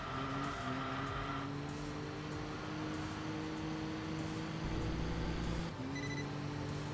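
Virtual Jaguar E-Type engine in Enthusia Professional Racing drones steadily at a sustained pitch, shifting down and back up around a gear change, with a quieter stretch mid-run.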